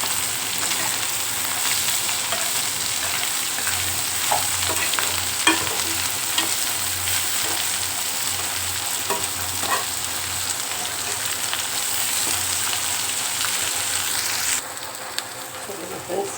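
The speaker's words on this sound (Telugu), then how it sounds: "ఇలాగ వేపుకోవాలి ఫ్రెండ్స్ అప్పుడే బాగా వస్తాయి టేస్ట్గా ఉంటాయి స్టవ్లో వేసినప్పుడు" Dried fish frying in hot oil on a stove for a dry fish curry, a steady close crackling sizzle like rain, with occasional stirring clicks, continuous and fairly loud.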